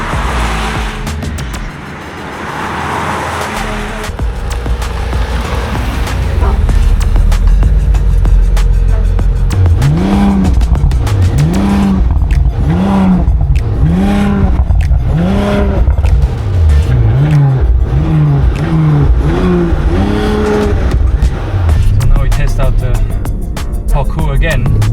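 An Audi RS5 is pushed hard around a small track course, its engine roaring and revving up and down in repeated loud, close sweeps, with tires squealing through the turns and a voice briefly audible.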